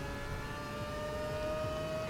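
Mazda 787B Le Mans race car in Gran Turismo 7 on PS4, its rotary engine giving a steady, high-pitched whining drone at constant speed, fairly quiet and with no voices.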